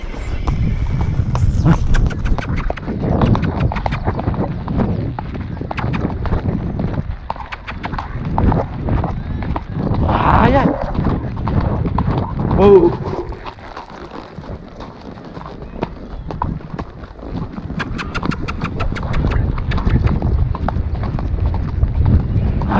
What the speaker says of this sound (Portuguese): E eu tenho que atiçar a égua, né?